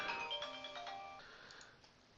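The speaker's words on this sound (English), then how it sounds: "I forgot to turn the ringer off on my phone" A phone ringtone plays a short melodic sequence of clear tones, fairly faint and alone, fading toward the end with no talk over it.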